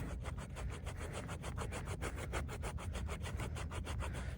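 Steady rhythmic rasping of a stainless steel fixed blade knife scraping wood on a bow drill board, strokes repeating quickly and evenly at close range with no talk.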